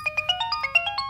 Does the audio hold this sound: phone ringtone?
yes